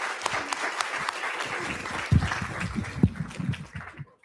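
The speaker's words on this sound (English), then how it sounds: "Let's give a round of applause for these Oxendine Beta." Applause fills a school board of education meeting after students lead the Pledge of Allegiance, a burst of dense clapping from a crowd that holds steady for a few seconds and then fades out.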